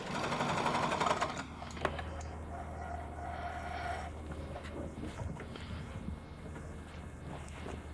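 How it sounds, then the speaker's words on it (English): A sewing machine whirs in a fast, steady rhythm for about a second, then stops, leaving quiet room noise with faint clicks. "Sewing on a sewing machine."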